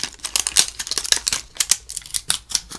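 Crinkly plastic packaging of a squishy toy is torn and ripped open, a rapid series of close, sharp crackling tears and rustles.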